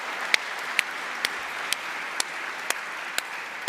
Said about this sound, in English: one more cheer before we start for Ricky Ross.